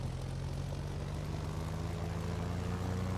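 Steady, continuous drone of a red propeller plane flying in the video game SKYE, a flight simulator, with a low engine hum and no gaps or talk.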